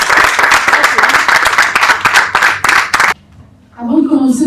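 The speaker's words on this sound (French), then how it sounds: "que je vous propose d'accueillir sur ce pupitre avec vos applaudissements." Audience applause at a national Gabonese women's day gathering, loud close clapping for about three seconds that cuts off abruptly, followed by a voice starting to speak.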